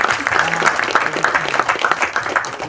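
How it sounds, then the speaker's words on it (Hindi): A crowd claps loudly for the cast, director and producer at a Hindi film trailer launch event, a brief burst of applause with voices mixed in over it. "पूरी स्टार कास्ट और पूरी टीम और डायरेक्टर साहब, प्रोड्यूसर सर के लिए जोरदार तालियां हो जाए"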